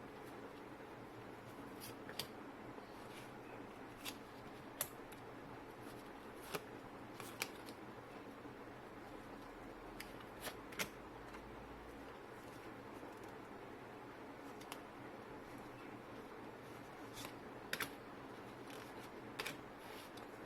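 A deck of tarot cards is shuffled quietly, with soft riffling and intermittent sharp card snaps spread across a long, faint passage in a calm room.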